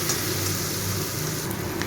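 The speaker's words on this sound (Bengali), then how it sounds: "পেঁয়াজ টমেটোটাকেও একটু ভালো করে ভেজে নেব" Chopped onion and tomato fry in a pan for a Bengali gathi kochu and prawn curry, giving a steady, close hiss of sizzling oil with no voices.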